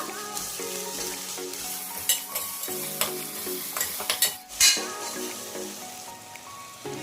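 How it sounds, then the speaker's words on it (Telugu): Ginger garlic paste frying in a pan for a prawn pulao: a loud, close sizzle with spoon scrapes and stirring clatters, popping louder in bursts. "ఇప్పుడు 2 టేబుల్ స్పూన్ అల్లం వెల్లుల్లి పేస్ట్ వేసుకుందాం. అల్లం వెల్లుల్లి పేస్ట్ కొంచెం వేపుకుందాం పచ్చి వాసన పోయేదాకా."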